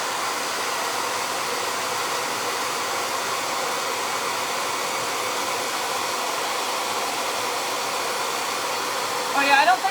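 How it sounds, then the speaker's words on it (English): A hair dryer blows steadily and loudly throughout, a constant rushing whir with a brief clatter near the end. "And I'm going to get the hairdryer."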